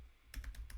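Keys tapped on a computer keyboard in a brief burst of four quick, close, soft clicks after a moment of quiet.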